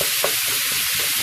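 Ground beef sizzles and fries in a pan for taco filling, with a steady loud hiss and a brief scrape as a spatula chops the meat into small pieces.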